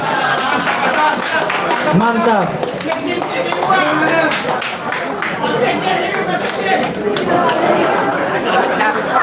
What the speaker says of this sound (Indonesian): Tepuk tangan Bu Nora, Pak Azam.